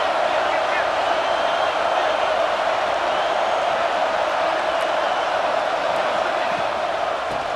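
Stadium crowd noise in the college football video game EA Sports College Football 26: a loud, steady roar of a packed crowd that holds level throughout.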